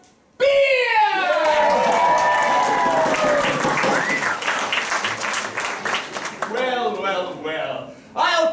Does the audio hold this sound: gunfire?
no